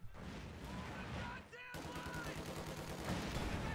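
Canister shot gunfire in the Company of Heroes 2 video game: a dense, rattling burst of battlefield shooting and impacts that cuts off abruptly, then resumes at a lower level with steady crackling fire.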